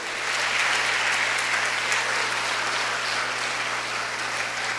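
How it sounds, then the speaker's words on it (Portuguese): A church congregation applauds, a steady, loud wash of many hands clapping that holds evenly throughout without any voices. "aplauda ao Senhor"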